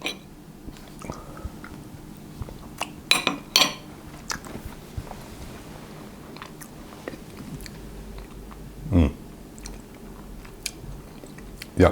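Someone bites into and chews a forkful of creamy, tart key lime pie, with soft mouth sounds, a couple of sharper clinks of cutlery on a plate, and quiet room tone in between.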